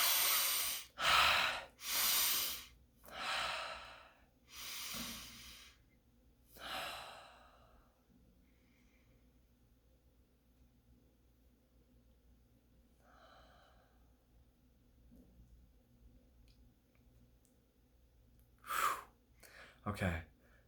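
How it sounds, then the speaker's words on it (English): Several long, deep audible breaths, with slow inhales and exhales close to the microphone, followed by a long quiet stretch and a final brief breath near the end. "I'm just gonna take a breath, encourage you to do the same."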